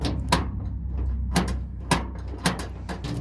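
GM C10 pickup truck door lock being worked after installation, giving four sharp mechanical latch clicks and clunks spaced about half a second to a second apart, close and moderately loud over a low hum.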